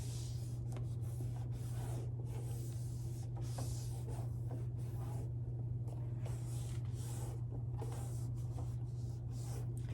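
Repeated rubbing strokes pressing sticky embroidery stabilizer onto fabric, soft swishing bursts in an uneven rhythm, close by, over a steady low electrical hum.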